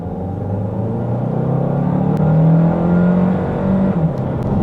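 A Kia Carnival Hybrid with a 1.6 turbo accelerates hard from about 20, its engine note rising steadily into a loud, sustained drone heard from inside the cabin, with no talking.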